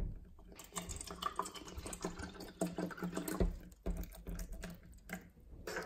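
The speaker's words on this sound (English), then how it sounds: "Let's pour some water in." Alka65 purified water splashes and trickles steadily into a pH test cup for several seconds, close up, with faint clinks and no talking.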